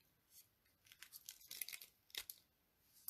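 Adhesive paper backing is peeled away from a sticker sheet for card making, giving close, crisp tearing and crinkling bursts that build over a few seconds in a quiet room.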